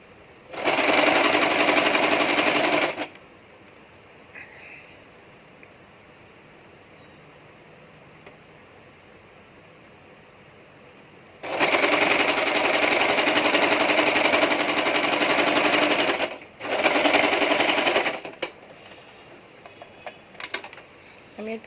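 A sewing machine stitches a princess cut nighty in three loud runs, a long burst, a longer one, then a short one, with quieter gaps of handling between them.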